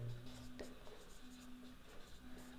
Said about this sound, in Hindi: लिख लेते हैं मॉडल की कुल ऊंचाई।